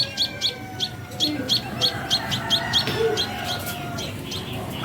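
Shrill, rapid chirps from young sparrow nestlings in a nest in a garden plant repeat in a steady rhythm, close and clear, over faint outdoor background noise.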